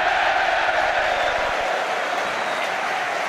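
A rugby stadium crowd at an Ulster versus Cardiff Blues match roars in a steady, broad wall of cheering with faint clapping, continuous and moderately loud throughout.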